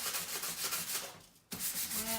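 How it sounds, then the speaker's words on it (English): Steady hand sanding, sandpaper rubbing back and forth in continuous strokes, briefly pausing before resuming at the same close, even level. "I'm just going to do a little sanding in the middle again so we distress it"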